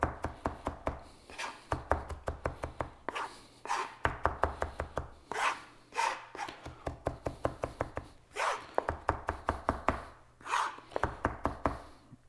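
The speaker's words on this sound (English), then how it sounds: "To mince it, I grab my knife with my hand over here on the handle, nice and firm." A knife minces ginger on a cutting board with quick back-and-forth strokes, giving steady bursts of rapid, close, crisp chopping taps repeated throughout with brief pauses between runs.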